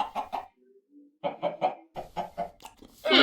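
Several short bursts of Minecraft chicken clucking, close and fairly loud, with a brief gap of quieter tones in the middle and a noisier burst at the end.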